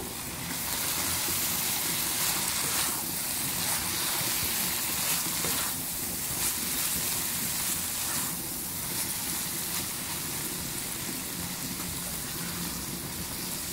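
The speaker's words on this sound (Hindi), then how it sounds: "अब इसमें भिंडियाँ शामिल करेंगे जो हमने फ्राई की थी" Fried okra being mixed into sizzling masala for achari bhindi gives a dense, loud, crackling sizzle that runs the whole time, with brief scraping surges from stirring and no talk.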